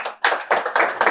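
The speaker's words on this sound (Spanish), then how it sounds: "Un aplauso para ustedes mismos." Audience clapping at a conference, a loud, close burst of hand claps in a quick, almost rhythmic pulse of about four beats a second.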